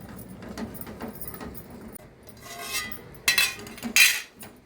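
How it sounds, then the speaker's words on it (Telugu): A lid is set onto a cooking pot of gongura, green chillies and tomatoes, giving a couple of sharp metallic clinks near the end after softer scraping and handling of utensils. "ఇప్పుడు మూత పెట్టి మగ్గించుకుందాం."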